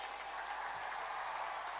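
Dense, steady applause from a large audience at an honouring ceremony, a continuous wash of clapping without pauses, fairly distant and even in level.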